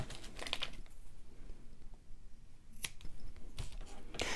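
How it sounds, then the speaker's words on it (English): Scissors snip through stretchy t-shirt yarn while a necklace is being made, a few close, crisp cuts in short bursts with quiet handling between. "And then I would trim the shorter one."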